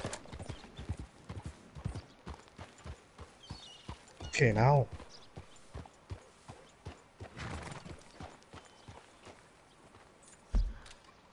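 Horse hooves clip-clopping in Red Dead Redemption 2, a brisk irregular run of hoofbeats with a loud neigh midway and someone speaking briefly over it.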